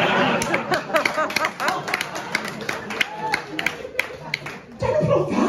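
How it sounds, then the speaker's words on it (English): A comedy club audience claps and laughs in a burst of applause that swells, dips briefly and picks up again near the end. "Don't applaud that."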